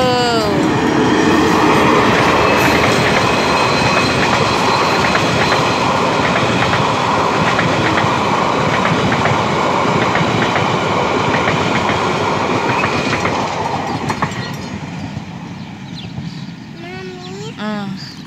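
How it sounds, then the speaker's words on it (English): A train rolls past on railway tracks in the small New Zealand town of Featherston, a loud, steady rumble with clickety-clack that fades over the last few seconds as voices talk nearby. "There's the train."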